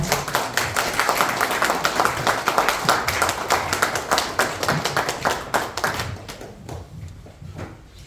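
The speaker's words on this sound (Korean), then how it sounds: "큰 박수 부탁드립니다." Enthusiastic audience applause at a lecture in a Christian hall in Daejeon, a crowd of clapping hands going strong for several seconds before thinning and fading out toward the end.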